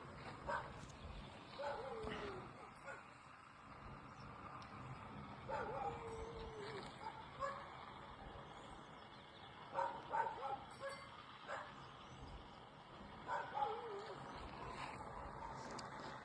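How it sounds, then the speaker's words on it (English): Faint dogs bark intermittently in the distance, scattered yips over a constant outdoor hum, with passing traffic noise in the background, at a goat farm. "You can hear the dogs barking."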